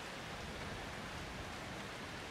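Steady, dense rain hiss in the video game Outlast 2, without pauses, even and moderately quiet, like a continuous downpour with no voices.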